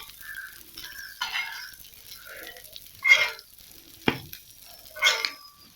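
Vanjaram fish fries in a pan with a soft sizzle as pieces are turned, punctuated by a few clanks of utensil against the pan and light scraping, close and fairly quiet.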